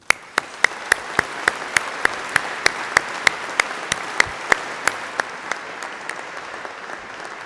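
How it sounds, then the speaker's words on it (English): Applause at a City of Glasgow College graduation ceremony in a large hall, steady sustained clapping from the audience with sharp, regularly spaced louder claps standing out over the wash. "Let's give them a round of applause."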